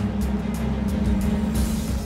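A supercharged Lamborghini Huracan tuned by Oberscheider: a steady low engine drone at a fairly constant pitch, moderately loud, with faint hissy bursts on top and no talk.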